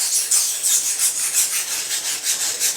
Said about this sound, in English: I'm honing by feel. I can feel the bevel drag against the stone.